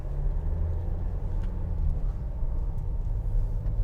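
A 2016 Vauxhall Vivaro 1.6 CDTi ecoFLEX van on the move, its steady low diesel engine and road rumble droning continuously and evenly throughout, heard from inside the cab with no talking.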